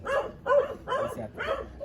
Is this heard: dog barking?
yes